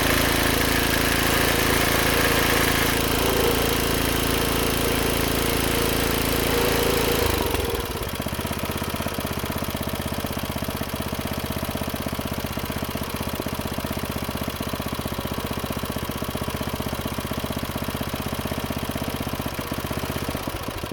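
A 1990 Task Force 5hp rototiller engine starts up and runs loud and steady nearby, with a rough, busy roar for the first several seconds before dropping into a smoother, lower idle that carries on to the end.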